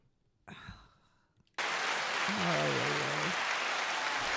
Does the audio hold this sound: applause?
yes